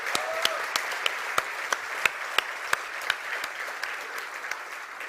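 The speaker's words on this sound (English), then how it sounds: "let's give them one big round of applause also" Audience applause for a demo team at a tech conference livestream, a soft continuous bed of clapping punctuated by a series of sharp, distinct nearby claps in a loose steady rhythm.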